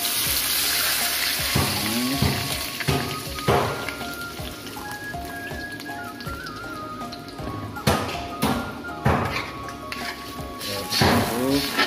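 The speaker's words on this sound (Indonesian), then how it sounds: "Ini bawang bombay dan bawang putihnya udah harum, udah matang ya, kita tambahkan air." Water poured into a pan of softened onion and garlic sizzles and hisses, with crackling bursts and a steady spattering fry running throughout, for a sweet spicy soy-sauce chicken dish.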